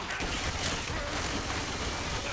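Uzi SMG fire in the Left 4 Dead 2 video game, a dense continuous burst of rapid shots with hardly a gap, loud and harsh across the whole stretch, while a voice talks faintly underneath.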